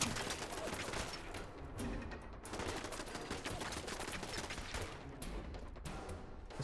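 Dense, continuous gunfire from the Fallout 4 video game crackles nonstop at the player, a loud barrage of overlapping shots with no breaks.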